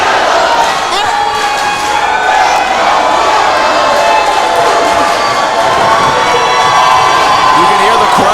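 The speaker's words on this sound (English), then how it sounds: "You can hear the crowd." A loud, dense crowd roars and cheers steadily throughout at a Reality Of Wrestling professional wrestling show, a continuous arena-wide swell of shouting voices with no pause.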